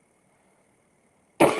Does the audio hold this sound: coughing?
yes